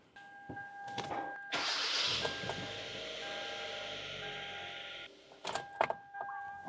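A Korean compact car engine turns over and catches after an oil change, then idles steadily for a few seconds to circulate oil before cutting off, with clicks and chimes around it.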